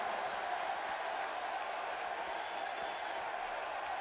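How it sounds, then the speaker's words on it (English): Steady, dense crowd roar from a wrestling arena in the WWE 2K17 video game, a continuous wash of cheering and applause at even loudness throughout with no distinct voices standing out. "And this crowd's right behind him."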